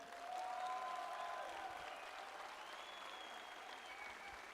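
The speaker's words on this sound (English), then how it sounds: "A big round of applause for all of them." A crowd at the RoboCup 2022 awards ceremony applauds in a large hall, a steady wash of distant clapping sustained throughout, with a few faint whistles or cheers rising over it.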